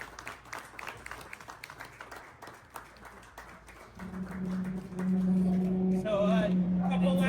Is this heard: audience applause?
yes